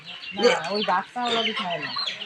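Chickens clucking in a village yard as they are let out of their coop, a run of close, fairly loud clucks and squawks over a couple of seconds.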